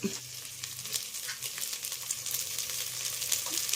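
Cinnamon upma cooking in a pan, a steady sizzle with scraping stir strokes running throughout at moderate volume, no voices.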